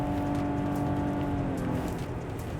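A 2021 Nissan Maxima Platinum launches in sport mode on a wet, rainy road, with a steady, loud engine drone under a constant hiss of rain and spray.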